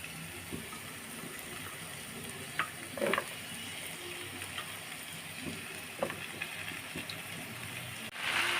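Cut vegetables frying in a pan of cooked-down spice paste for a baim (eel) fish curry. A steady, faint sizzle runs throughout, with a few soft clinks and scrapes of stirring around the middle.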